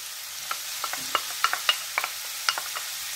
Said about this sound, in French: je vais ajouter mes oignons